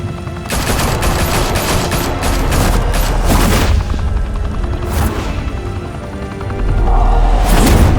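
In Batman: The Telltale Series episode 1, a heavy volley of gunfire fills the air: sustained overlapping shots and booming impacts, loud and continuous, with a low rumble swelling near the end.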